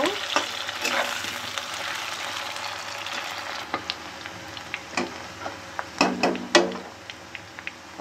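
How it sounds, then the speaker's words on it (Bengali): Cut potatoes frying in hot oil for a Bengali fish curry with cauliflower, a dense steady sizzle with sharp clicks and scrapes of a spatula stirring them close by, and no voices. "আলুগুলো ভালো করে লাল লাল করে ভেজে নেব।"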